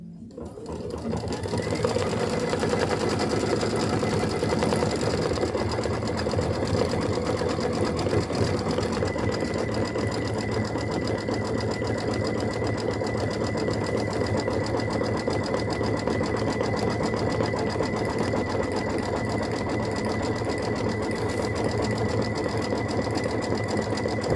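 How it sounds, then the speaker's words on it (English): A sewing machine stitches in the ditch around blocks of a heavy quilt, running with a steady, continuous mechanical hum and rapid needle chatter close by for over twenty seconds without pause. "I'm just going to stitch in the ditch around the blocks"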